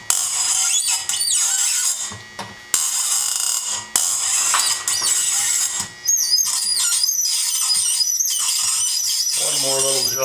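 Squeaking while threading the tang of a camp knife, high shrill squeals in repeated bursts with short pauses between strokes, close and fairly loud, with a brief metallic clatter near the end.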